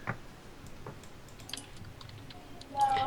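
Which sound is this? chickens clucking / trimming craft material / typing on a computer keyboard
typing on a computer keyboard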